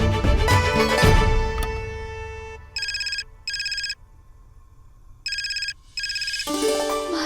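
A telephone ringtone sounds in four short bursts of bright electronic ringing with gaps between, following a few seconds of music at the start.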